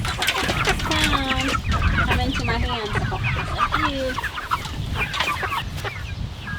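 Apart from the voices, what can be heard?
chickens clucking before butchering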